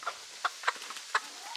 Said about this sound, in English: Where you go, chicken?